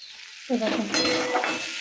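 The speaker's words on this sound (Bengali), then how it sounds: "এখানে একটু জিরে ফোড়ন দিয়ে কাঁচা লঙ্কা পেঁয়াজটাকে একটু লাল লাল করে ভেজে নিয়েছি" Onions and green chillies frying with cumin in a pan, a sudden loud sizzle as they hit hot oil followed by steady crackling and stirring, close up with no talk.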